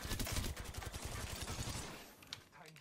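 Rapid gunshots ring out in a first-person shooter video game, a fast rhythmic volley of fairly quiet shots that thins out and fades, followed by a few scattered faint impacts, with no speech.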